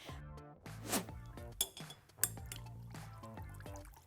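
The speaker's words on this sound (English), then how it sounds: "I'm going to be adding a few drops of color and stirring this well." A utensil stirs colorant into a homemade gel air freshener mixture, producing light, scattered clinks and wet sloshes against the container, quiet and close.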